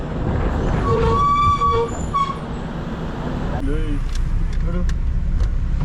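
A train passes close by, its horn sounding in a few sustained blasts before giving way to rolling rumble and brief high squeals, with people talking over it.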